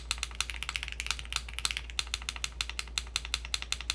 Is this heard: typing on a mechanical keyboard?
yes